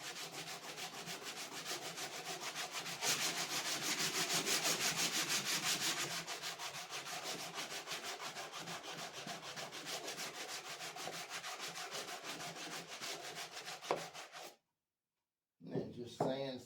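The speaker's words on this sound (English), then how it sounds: "you have to sand that just a little bit after you do it. So get your sanding block back out" Hand sanding of charred wood with a sanding block, a steady rhythmic rasp of quick back-and-forth strokes close by that stops briefly near the end and then resumes.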